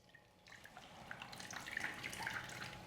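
Ground spice mixture mixed with water being strained for a grilled fish recipe, giving a steady trickling, dripping liquid sound that grows slightly louder after the first half second, with no talk.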